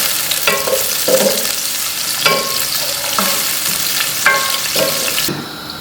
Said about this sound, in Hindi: जैसे हमारा ये प्याज ब्राउन होता है